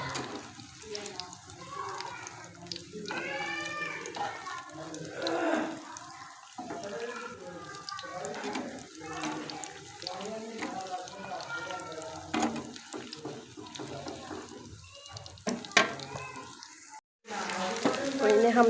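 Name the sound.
potato mince kebabs frying in a pan on low heat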